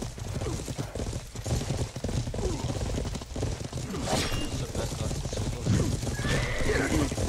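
A horse in a PvP video game gallops with rapid clip-clop hoofbeats and gives a couple of whinnies, set against busy game noise with faint voices in the background.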